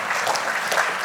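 Brief burst of audience applause greeting a speaker at a business keynote event, dense even clapping close by for about a second.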